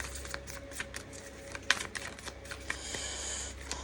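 Tarot energy cards being shuffled close to the microphone, producing a quick run of soft, papery riffles and taps over a few seconds.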